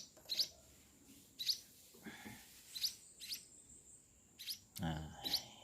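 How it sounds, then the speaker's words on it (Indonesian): Baby sparrow chicks chirp in short, high bursts, several quick peeps spread across a few seconds, fairly close, with faint background noise and a brief low murmur between calls. "ini burung anakan burung pipit tadi ya kawan ya."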